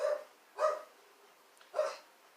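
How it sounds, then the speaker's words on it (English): Three sharp barks from a dog in the background of a room, spaced about half a second to a second apart, moderately loud and slightly distant, with no talking. "And my dog's barking in the background."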